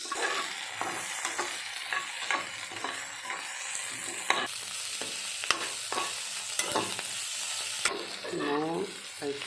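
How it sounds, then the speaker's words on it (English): Okra sizzles and crackles steadily in a hot pan, with occasional scraping as it is stirred around. "we are frying this because to avoid that sticky"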